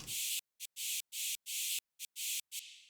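Noise percussion in an electronic remix: broad hissing bursts, like a spray or shaker, cut into a choppy, uneven rhythm with sharp stops between hits. The bursts are fairly quiet and play alone.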